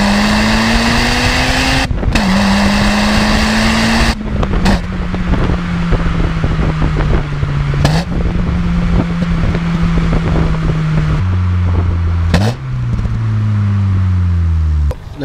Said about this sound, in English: I just love downshifting and blipping the throttle.